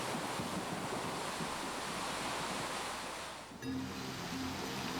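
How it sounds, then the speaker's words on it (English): A large rush of water floods a quarter-scale miniature cargo hold on a film set. The roar is steady and loud and broadband, with a brief dip and a rumbling shift near the end. "the cargo hold is flooded by a massive wall of water"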